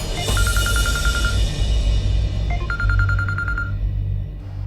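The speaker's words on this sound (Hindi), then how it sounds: "ये देखिए, आकाश का फोन है" A phone's electronic ringtone trills in short beeping bursts, pausing briefly before ringing again, loud and close over a low background hum.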